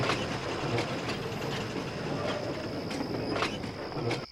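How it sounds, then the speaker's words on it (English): A train rumbles steadily along with rhythmic clicks and clanks of wheels on rails, a continuous mechanical drone throughout. "One particular evening, Paxton was still shunting after the last train had come in."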